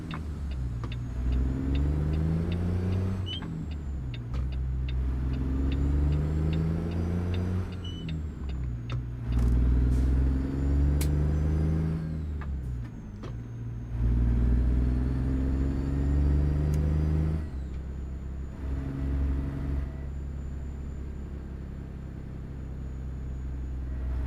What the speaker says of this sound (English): I started using some Zeemods engine and sound packs